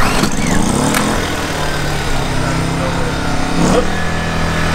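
A small ALP propane-fueled generator engine runs close and loud with a steady buzzing drone and slight surges in pitch, continuing without pause throughout.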